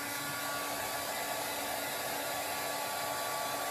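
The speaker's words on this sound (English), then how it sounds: "I'm using a heat gun. This is not a blow dry, it's a heat gun." A heat gun blows continuously while drying glitter paint, a steady close airy roar with a faint whine and no variation or talk.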